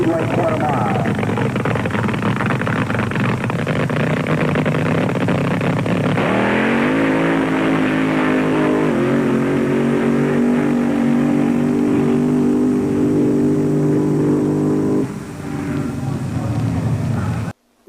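A nitromethane-fuelled 3,000 horsepower dragster launches down the Ontario Motor Speedway quarter mile, a loud engine roar that rises sharply in pitch and holds a heavy, rising drone before cutting off, with an announcer's voice over it.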